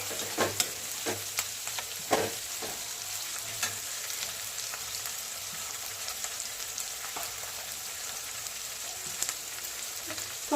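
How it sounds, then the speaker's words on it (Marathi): Potatoes fry and get stirred in a pan for an aloo matar pulao, a steady soft sizzle with frequent scraping and clinking of the spoon against the pan throughout, no voices. "फ्राय केलेला बटाटा मस्तपैकी फ्राय करून घ्यायचं, परतून घ्यायचं मस्त छान पैकी।"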